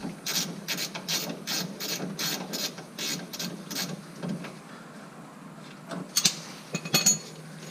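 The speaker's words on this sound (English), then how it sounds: "let's work to get a wrench and remove the shocks" A ratchet wrench clicks in quick, regular bursts while shocks are removed, close and crisp, followed by a few scattered metallic clinks and taps near the end.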